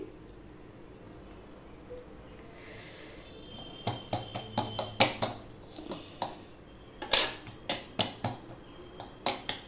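A spatula scraping papaya dhoka mixture off a ladle in a home kitchen: a run of short, rhythmic scrapes and taps, fairly close and quiet.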